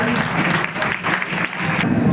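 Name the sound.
people clapping, applause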